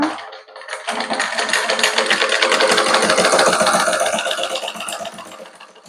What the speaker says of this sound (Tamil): ஒரு தையலை போட்டுட்டு நீங்கள் தைக்க தொடங்கணும்